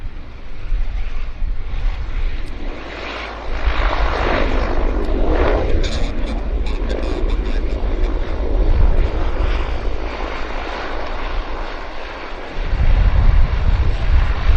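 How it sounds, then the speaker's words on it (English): A Central Mountain Air Dash 8 turboprop airliner at Vancouver Airport gives a steady, broad propeller and engine roar that swells partway through and grows louder near the end, with wind buffeting the microphone. "It's not Jazz, it's Central Mountain dash 8."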